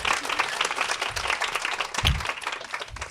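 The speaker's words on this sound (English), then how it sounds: "let's give it up one more time for the person who has been driving the change in our organization, Emmy award-winning producer, Jackie." An audience at a startup event claps steadily in a room, a dense, sustained patter of applause with a few louder thumps near the end.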